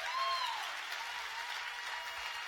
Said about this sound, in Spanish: O darle un aplauso a Dios y darle alabanzas a Dios.